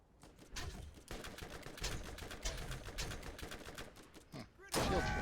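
Rapid gunfire in the Borderlands video game, with dense bursts of shots crackling steadily throughout and a louder, closer volley at the end.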